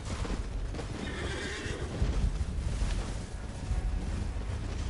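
A horse neighs in Elden Ring, a loud whinny rising out of steady wind and outdoor game ambience, with clopping hoofbeats in the background.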